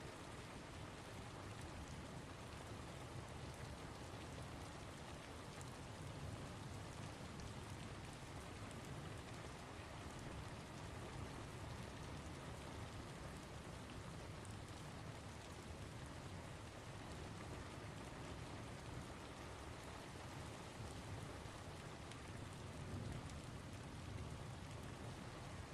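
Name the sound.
rain falling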